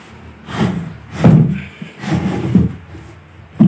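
A heavy wooden drawer without drawer slides is shoved into under-stair storage in a home, producing a series of loud scraping thumps and knocks of wood on wood at an uneven pace.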